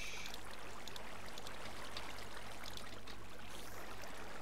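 Minecraft water flows in a soft, steady babble that stays faint and unbroken throughout, with a low hum underneath and no voices.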